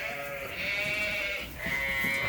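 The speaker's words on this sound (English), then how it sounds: "Putting sheep out, getting them ready to go to the coverall." Sheep bleat in a pen on a farm during lambing time, two long, loud, wavering calls close by, one after another with a brief dip between them over steady barnyard noise.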